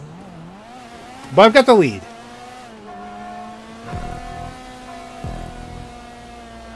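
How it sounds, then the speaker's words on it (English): A car engine in a Transformers-themed stunt racing video game drones with a steady, tonal hum and slight pitch shifts, while someone speaks briefly over it. "And you can just hear the engine going"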